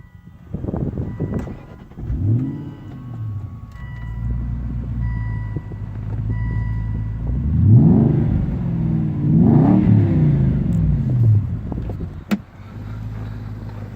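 A 2007 Aston Martin V8 Vantage coupe cranks and fires up close by, settling into a deep idle, then blipped twice with rising revs before dropping back to a steady, throaty idle; no talking.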